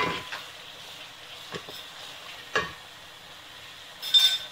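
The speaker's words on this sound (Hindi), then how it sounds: "देखिए इसे फ्राई करेंगे हम" Crushed ginger and garlic fry in a pan with a soft, faint sizzle, broken by a few scrapes of stirring and a louder clatter at the end. It is close and quiet, with no talking.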